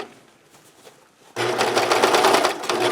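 A serger sewing machine starts up partway through, stitching a seam on a scrub cap with a fast, steady mechanical whir and rapid needle chatter after a quiet lead-in.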